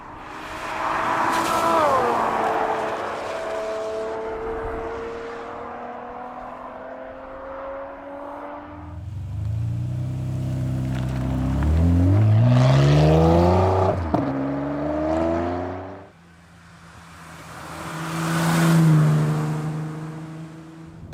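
A Ferrari F12 Berlinetta V12 engine runs loud and close, its pitch rising through sustained revs, dropping, then climbing again in strong accelerating surges with a smooth multi-layered tone.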